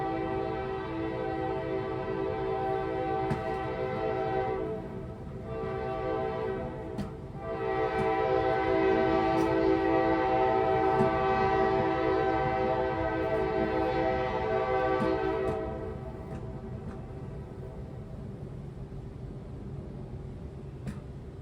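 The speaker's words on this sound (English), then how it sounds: "I'm gonna let the train go by because that train be mad loud" A train rumbles past steadily while its horn blows in long, loud blasts with brief breaks, then fades leaving the rolling clatter of cars.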